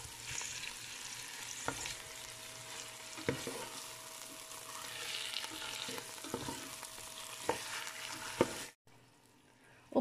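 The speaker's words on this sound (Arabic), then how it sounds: "ونقلبهم حتى تتشرب الدجاجة طعم اللي هو البصل والفليفلة" Chicken fries with onion and peppers in a pan and sizzles steadily while being stirred, with a few sharp scraping knocks of the spoon. The sound is close and fairly soft, then stops abruptly near the end.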